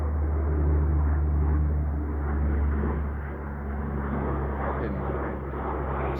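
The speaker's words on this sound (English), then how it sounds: "fucking C-130, boys." A C-130 military transport aircraft passes overhead with a loud, steady low propeller drone that swells and eases over several seconds.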